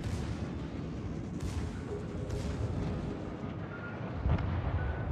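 Warship guns fire in the naval battle game World of Warships, a continuous deep rumbling barrage with repeated booms and a heavier blast near the end, with no voices over it.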